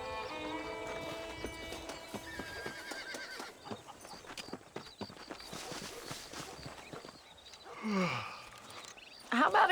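Horse hooves clip-clop in Red Dead Redemption in the frontier town of Armadillo, steady walking steps under background music and ambience, ending with a horse's loud whinny.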